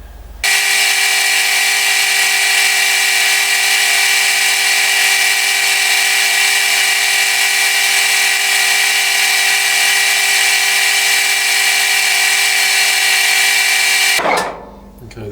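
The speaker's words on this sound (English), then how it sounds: "now I'll drill a hole in it" A power drill runs steadily for about fourteen seconds, boring a hole into a diesel injector return line fitting. The whine is loud and continuous with no talk over it, then it winds down at the end.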